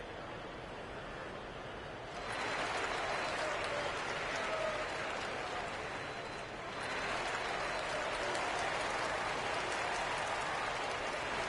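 Home crowd in a basketball video game cheering after a victory, a sustained roar of applause and crowd noise that swells louder partway through and stays dense throughout.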